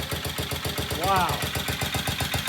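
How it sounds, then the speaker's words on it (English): Up close, a vintage British motorcycle engine idles with a rapid, regular pulsing beat, and a short higher-pitched sound rises briefly over the steady chug. "listen to that idle."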